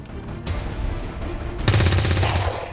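Gunfire in the tactical video game XCOM 2: War of the Chosen: quieter game sounds give way to a sharp, loud burst of rapid automatic shots in the final second.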